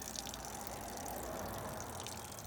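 Water still trickling out of a soaked drain cable, a faint continuous dribbling hiss, close by and steady with no voices.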